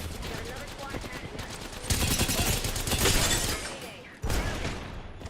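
Rapid automatic gunfire rattles through a video game firefight in close, continuous bursts, swelling louder midway and cracking again with a sudden sharp burst near the end.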